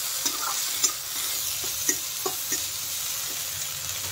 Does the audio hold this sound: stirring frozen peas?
yes